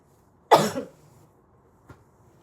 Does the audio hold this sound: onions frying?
no